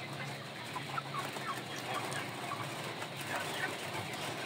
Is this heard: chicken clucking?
yes